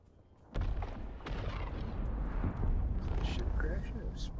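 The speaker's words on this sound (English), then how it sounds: "Spice explosion. Wow. That was a big one." A huge spice explosion in the Dune video game erupts as a sudden loud boom, then a sustained roaring rumble with crackling debris that runs for several seconds.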